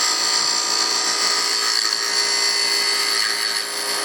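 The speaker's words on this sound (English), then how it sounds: "you can then come in with the gouge at a scraping angle and scrape it the rest of the way flat" A wood-turning gouge scrapes a wooden box blank flat on a lathe, producing a loud, steady, hissing scrape over the lathe's whir, continuous throughout without speech.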